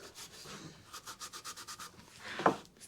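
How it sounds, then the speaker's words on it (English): A cloth or rag wipes excess wood glue from a wooden shelf joint in quick rhythmic strokes, a soft close-up rubbing pattern of about a dozen swipes ending in a sharper scrape. "Just wiping some of the excess"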